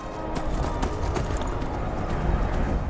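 Horse hooves from a Dawnguard patrol riding ahead in the video game Skyrim, a steady, continuous clip-clop under a dense bed of ambient game noise, with no talk.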